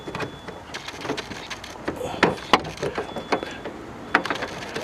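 Bulbs twisted a quarter turn out of a 2010 Lexus ES350 tail light housing, giving small plastic clicks, creaks and rattles scattered irregularly and close by, with no talking.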